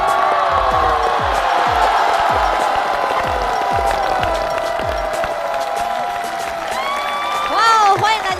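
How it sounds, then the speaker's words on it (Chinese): Applause and cheering from a live comedy-show audience greet a stand-up comedian walking on stage, a steady broadband clatter of clapping with music playing underneath, swelling slightly toward the end. "掌声有请蓉蓉。"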